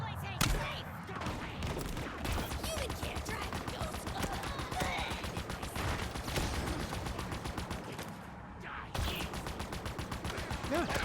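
Rapid automatic gunfire from the Halo video game fills the scene, dense and continuous bursts close up with a brief lull near the end before shooting resumes.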